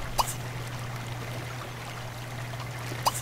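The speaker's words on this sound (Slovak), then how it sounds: "Vodopád." A waterfall in The Sims 3 gives a steady, soft rush of flowing water over a low constant hum, with two brief clicks near the start and end.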